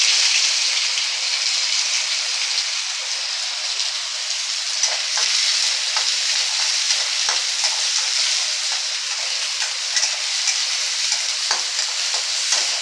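Chopped onion frying in hot oil with popping mustard and fennel seeds, a steady bright sizzle with scattered crackles and occasional stirring scrapes, close and constant throughout.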